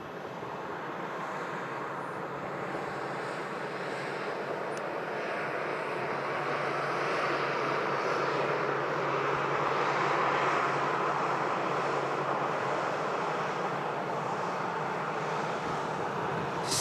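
Boeing 747 slowly edging forward to begin its taxi at Manchester Airport, a steady broadband jet engine roar that holds throughout and swells slightly toward the middle, heard from a distance with no talk.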